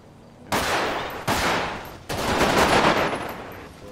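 Gunfire in a GTA roleplay game, loud and close: three bursts of rapid automatic fire starting abruptly, the last one sustained for nearly two seconds.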